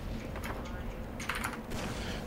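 Quick, light clicks of typing on a computer keyboard are heard close by under a steady background hum, coming in short bursts during a Team Fortress 2 match.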